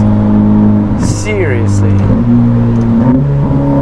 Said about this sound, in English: About as ridiculous as these gear changes